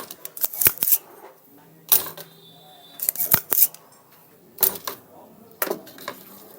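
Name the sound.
removing a capacitor from a circuit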